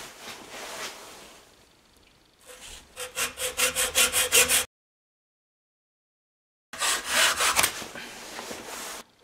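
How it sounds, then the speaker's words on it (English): A saw cuts through the moderator shroud of a Gamo air rifle, starting with soft scraping strokes and building into a steady run of loud rhythmic back-and-forth strokes, then breaking into silence before sawing resumes. "I'm going to start by cutting off the moderator."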